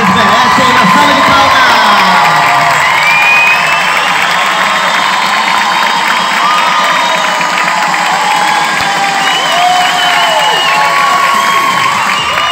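Loud, sustained crowd cheering and applause at a bodybuilding award ceremony in Cuiabá, with whoops and shouts, including children's voices, filling the whole stretch without a break.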